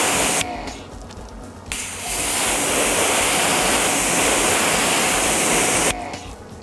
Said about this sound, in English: you're going to want to rinse it off with the pressure washer.